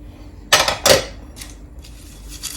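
A spoon mixes chia, sunflower, sesame and pumpkin seeds with nuts in a bowl, giving two sharp clinks and scrapes close by, then softer rustling.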